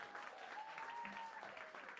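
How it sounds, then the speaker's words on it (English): Audience applause for a comedian at the Boston Comedy Festival, a dense, steady patter of clapping from a crowd, heard faint and distant for the whole moment. "keep it going for Tony, man. Let him hear it"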